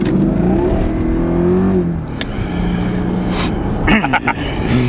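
A 2006 Jaguar XKR 4.2-litre supercharged V8 revs hard and loud, rising and falling in pitch, then snarls again after a brief lull, close by.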